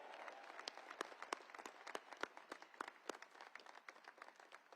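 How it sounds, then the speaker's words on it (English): Crowd applause at a US Air Force Academy commencement ceremony, dense steady clapping from many hands, fairly faint and distant, with no speech over it. "Round of applause for all of them."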